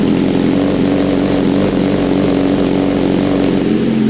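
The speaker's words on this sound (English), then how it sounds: "he's got the SC Project exhaust." A BMW S1000RR superbike fitted with an SC Project exhaust fires up from cold, settling into a loud, steady, deep-toned idle with a strong low hum that holds constant throughout.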